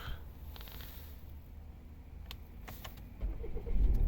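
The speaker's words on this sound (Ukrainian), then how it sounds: "Чітко, швидко заводиться." A 2016 Volvo V60 with a 2.0 diesel engine and automatic gearbox starting up: quiet mechanical clicks, then the engine cranks and catches near the end, rising into a low idle rumble.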